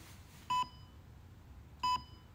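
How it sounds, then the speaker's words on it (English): Two short, loud electronic beeps about a second and a half apart, each a bright steady tone, heard while unboxing a bootleg Shenron figure with no one speaking. "Why are you beeping?"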